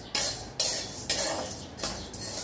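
Spices are stirred and dry-roasted in a pan for ghati masala. A utensil scrapes against the metal in four or five rhythmic, close strokes at a moderate level, with no voices.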